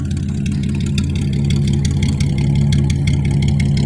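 A Chevrolet K2500 truck engine idles steadily with a deep, low rumbling throb and faint rattling, loud and close, with no voices.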